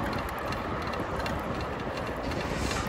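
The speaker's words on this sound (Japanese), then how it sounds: "ああ、電車が走ってるんか。" A train rumbles past under a bridge near Shanghai station, with steady broadband noise and faint rhythmic clatter, continuous and fairly close, no voices.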